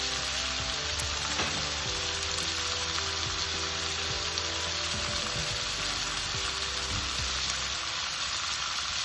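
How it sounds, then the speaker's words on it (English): About 200 ml of water hits a hot pot of chicken stew in creole sauce, a loud steady sizzle and bubbling hiss that runs continuously and close up, with no talking. "Now I will put water."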